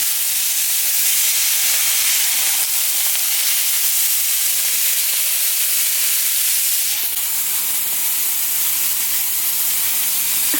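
Meat sears in hot grease with a steady, loud sizzling hiss that runs unbroken throughout, close and alone, with no talking.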